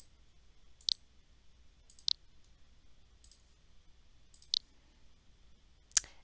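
Five crisp, close computer mouse clicks at uneven intervals while working through a doctor HUD menu in a game, with a faint quiet room hum between them and no voices.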